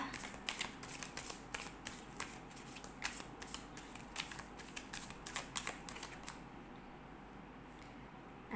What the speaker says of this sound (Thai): เดี๋ยวเรามาสับไพ่กันนะคะ